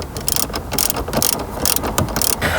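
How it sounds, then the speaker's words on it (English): A ratchet clicks in quick bursts while driving bolts into the top of a factory head unit in a Toyota Land Cruiser dashboard, heard up close with short pauses between strokes. "We are now installing the bolts on the top of the factory head unit."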